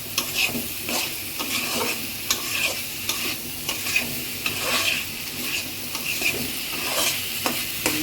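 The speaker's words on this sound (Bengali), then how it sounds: "আলুটা দিয়ে দিলাম, আলুটা একটু কষায়ে তারপরে আমি ডিম দিব পরে।" Potatoes frying in a pan while being stirred, a steady close sizzle with repeated scraping stir strokes throughout, no voices.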